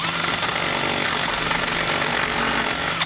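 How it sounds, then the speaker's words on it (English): Power drill fitted with a 3/8 bit boring out a hole in a vehicle frame for base plate hardware, a steady loud grinding whir running unbroken for about three seconds and cutting off at the end. "We're using a 3/8 drill bit just to clean this up."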